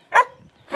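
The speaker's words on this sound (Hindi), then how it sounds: "क्या भागल कुत्ते डरा दिया मुझे." Two sharp, loud dog barks about half a second apart, heard on a street in Positano on the Amalfi coast of Italy, with only a faint low murmur between them.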